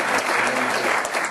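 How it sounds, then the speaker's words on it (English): Audience at an education summit breaking into a dense round of applause, loud and close, many hands clapping steadily through the whole brief moment. "I want to give him personally a round of applause for coordinating"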